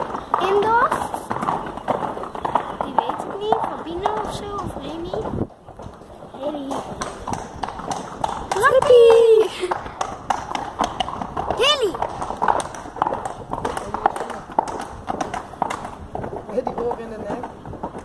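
Horses being led from a riding stable out to the meadow, their hooves clip-clopping in an uneven walking rhythm nearby, heard under almost constant chatter from several people along with a brief whinny.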